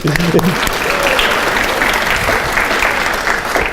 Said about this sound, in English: a round of applause for yourselves, please